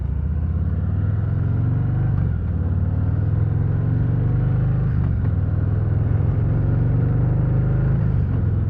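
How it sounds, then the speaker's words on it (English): Harley-Davidson Revival Hydra Glide motorcycle with a low, steady engine and exhaust rumble, running continuously and fairly close with no talk over it. "I do hear a little bit of rumble coming from this engine and that exhaust there"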